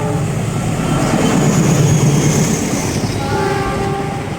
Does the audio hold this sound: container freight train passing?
yes